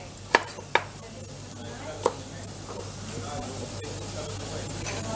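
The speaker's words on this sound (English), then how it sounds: "And then we're going to add our carrot. So, just finely chop the carrot." A chef's knife finely chops carrot on a board in a kitchen. Three sharp, close taps come in quick succession, then lighter scraping cuts follow over a steady background hum, with a faint voice in the room.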